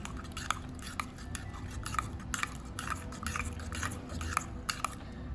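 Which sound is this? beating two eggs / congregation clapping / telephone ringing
beating two eggs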